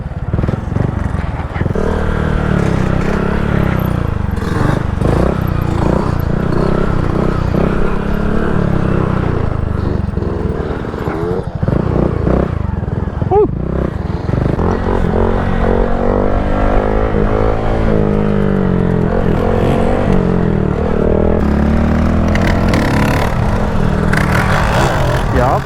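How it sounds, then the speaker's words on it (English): Honda Grom motorcycle riding on the road, a steady mid-pitched engine drone with tire noise that holds loud and close throughout, with small shifts in pitch as the bike moves. "Them Grom tires sound good."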